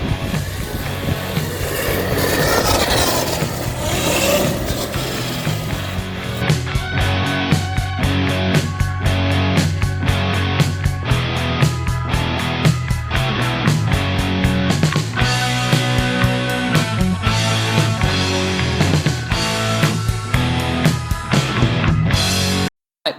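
A small MJX Hyper Go brushless RC car runs with an odd-sounding drivetrain, a loud close whining motor broken by rapid rattling clicks and bursts of throttle, ending in an abrupt cutoff.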